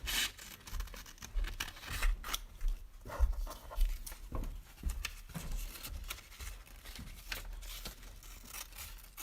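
Scissors fussy cutting around stamped paper images, with many small, irregular snips and paper rustles close by, continuing steadily without talk.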